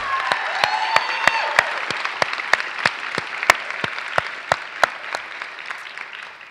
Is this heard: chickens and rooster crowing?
no